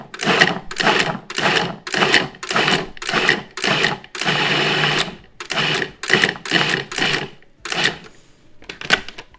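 A food processor pulses chickpeas into coarse crumbs in a rapid series of short, loud, close bursts, about a dozen in a row with one longer run near the middle, before a pause and a final few pulses.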